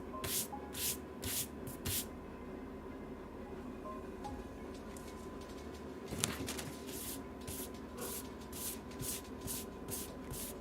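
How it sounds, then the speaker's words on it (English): A desk cleaner spray can fires a series of short, sharp hissing bursts in quick succession, pausing midway and then resuming with more rapid spritzes, close and fairly quiet against a low background hum. "And you know what's also gonna go burr? Is my desk cleaner."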